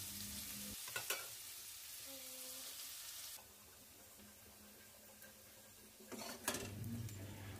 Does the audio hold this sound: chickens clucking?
no